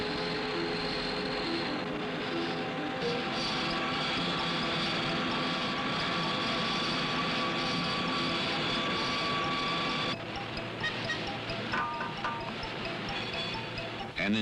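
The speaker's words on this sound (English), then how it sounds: "Under a steady flow of oil, locking lugs are milled in center fire receivers." Rifle receivers being milled for locking lugs under a steady flow of oil, a continuous loud dense machine roar with steady tonal whine that shifts in character partway through.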